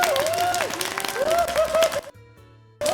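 One person claps near the microphone in a quick run of overlapping claps, mixed with a wavering voice-like tone. Everything drops to near silence for a moment before a sharp return at the end.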